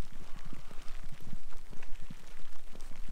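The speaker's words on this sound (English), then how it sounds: "Raining." Rain falls during a hike in a Finnish national park, scattered close drops pattering irregularly on nearby surfaces over a soft steady background hiss.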